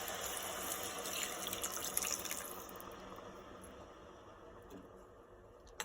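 Water pouring steadily into a pot of West Indian Saturday soup with meat and tomato puree, a close splashing stream that thins and fades toward the end.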